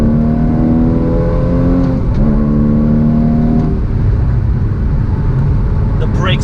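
A 2016 Porsche Cayman GTS engine revs in sharp stepped auto-blip bursts as it downshifts, its pitch jumping up and falling repeatedly, loud and close.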